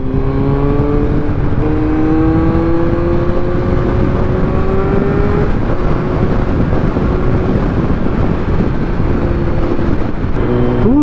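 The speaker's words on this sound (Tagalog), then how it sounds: "sarap ng hangin" Loud, constant wind rushes past the microphone while riding a 2022 Kawasaki Z900 motorcycle, mixed with a rising and falling engine drone, with no talking.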